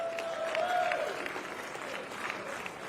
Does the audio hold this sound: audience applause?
yes